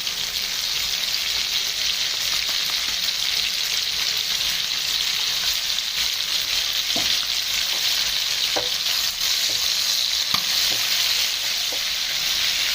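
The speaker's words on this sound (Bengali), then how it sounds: "মেটেটা হালকা ফ্রাই হয়ে এসেছে।" Chicken liver fries steadily in a pan with a dense, continuous sizzle from start to finish, broken by a few faint stirring taps near the end.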